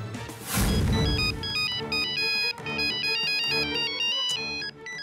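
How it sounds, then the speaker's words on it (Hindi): A mobile phone ringtone plays loudly and steadily, a bright repeating electronic melody with no voices over it. "हाँ, जोश को फोन करती हूँ।"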